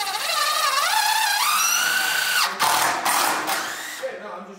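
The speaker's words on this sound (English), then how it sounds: "he's cutting the sheetrock to fit right here" Jigsaw cutting a sheet of drywall, a whining motor that rises in pitch and then gives way to a few choppy bursts as the blade bites, with a person talking over it.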